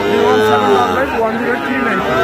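Calves at a cattle market mooing in long, drawn-out, close lowing calls over a busy background of crowd noise and voices.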